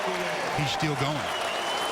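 Basketball crowd at a Lakers game in Minnesota applauding Kobe Bryant as he passes Michael for third on the all-time scoring list, both teams and fans on their feet; a steady, loud wash of clapping and cheering runs throughout beneath a commentator talking.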